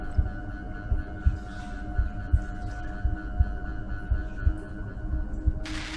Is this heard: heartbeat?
yes